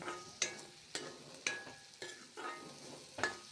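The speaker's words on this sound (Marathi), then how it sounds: "त्यानंतर त्यात हळद टाकलेली आहे गरम मसाला टाकलेला आहे आणि छान तेलामध्ये फ्राय करत आहे" Masala with turmeric and garam masala frying in oil in a pan, with a soft steady sizzle and several sharp scrapes of a spatula stirring at a regular rhythm, close and fairly quiet.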